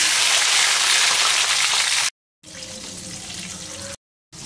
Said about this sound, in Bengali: এবারে বেগুনগুলো দিয়ে দেবো তেলের মধ্যে।